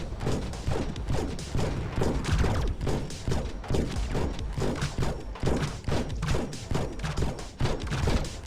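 Enemy fire in Yupitergrad 2, a VR game on Meta Quest 2: a dense, continuous barrage of rapid thumping shots and impacts, loud and close, with no talk over it.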